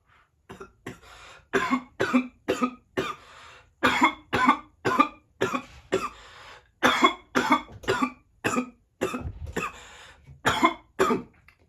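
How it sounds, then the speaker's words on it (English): Repeated harsh coughing, close and loud, in rapid clusters of bursts with short pauses between fits, continuing throughout. "even though I'm coughing and shit like that"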